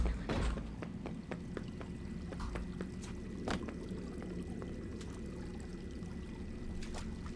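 A waterfall in the video game Five Nights at Freddy's Security Breach, a steady low rush of pouring water with scattered splashy clicks and taps, moderately quiet and continuous, with no voices over it.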